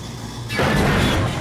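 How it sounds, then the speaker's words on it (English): A 1969 Camaro's frame and low exhaust clamps scraping the road while bottoming out on a first test drive, a sudden loud broadband crunch and rumble starting midway and continuing through the end. "The exhaust is so low that we had some bottoming out issues."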